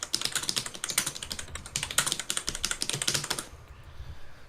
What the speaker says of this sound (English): Furiously loud typing.